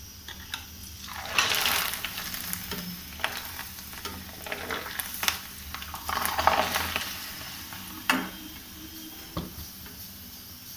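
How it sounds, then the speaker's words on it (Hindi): Rice papad sizzles and crackles in hot oil, with bursts of bubbling hiss and occasional light scraping or clinks. "देखिए इसको बहुत ज़्यादा दोनों तरफ से तलना नहीं है"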